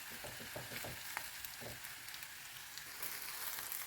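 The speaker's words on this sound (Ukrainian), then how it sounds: "Роблю великий вогонь, бо це має смажитись, а не тушитись." Cauliflower and broccoli fry in a pan over high heat, giving a steady close sizzle with a few louder crackles and stirring scrapes.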